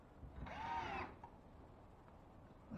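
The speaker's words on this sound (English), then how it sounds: "Once your piece is ready, go ahead and put screws in it" A power driver runs screws into a drywall patch, giving a brief whirring burst of about half a second that rises and falls, then quiet room noise.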